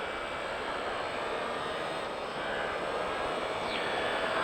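A Yamaha R1 motorcycle accelerates on a race track. Its engine gives a steady, dense, loud roar that builds slightly toward the end, with no talking.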